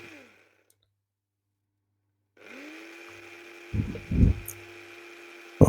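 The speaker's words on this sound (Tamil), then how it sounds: "நான் எனக்கு ஏற்ற மாதிரி அரைக்கிறேன்" A mini grinder whirs into a steady motorized hum after a short silence, with a few louder rattling bursts as the coffee grinds, close and fairly loud with no talking.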